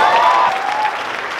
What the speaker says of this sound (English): Big round of applause for Trevor, everybody.